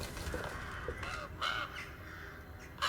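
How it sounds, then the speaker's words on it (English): Crows caw in Alone in the Dark, several harsh calls scattered over about three seconds, fairly faint and distant against a low ambient hum. "Birds."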